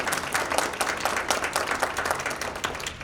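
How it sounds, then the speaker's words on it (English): An audience at a biliteracy forum claps for an event organizer, loud, close applause with distinct individual claps in a dense, continuous burst. "Let's give her a round of applause."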